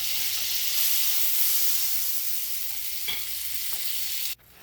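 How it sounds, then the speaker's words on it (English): Butter melting in a cast iron skillet gives a steady, fairly loud broadband sizzle that holds for several seconds, with a few faint clinks partway through before it cuts off sharply near the end. "I'm going to go ahead and put that in the skillet and get that melted"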